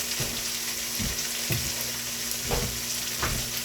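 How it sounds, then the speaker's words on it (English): Onions fry in olive oil in a stock pot, a steady close sizzle broken by several stirring scrapes at a loose, regular pace. "heat olive oil in the stock pot and then add onions and cook"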